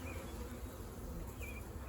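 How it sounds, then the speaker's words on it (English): Honey bees buzz in a dense, continuous hum around a hive frame, a swarm droning close by with occasional individual bees passing. "Look at all those bees."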